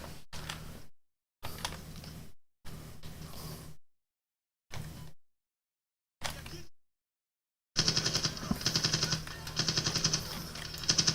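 AK rifle fire in the Medal of Honor 2010 game, several short automatic bursts broken by silent gaps, then a longer sustained stretch of loud rapid shots at the end.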